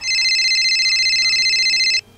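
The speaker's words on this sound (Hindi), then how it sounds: "अरे फोन आ रहा" A telephone rings with a steady electronic trill that sounds loud and close and runs continuously for about two seconds before stopping abruptly, with no talking over it.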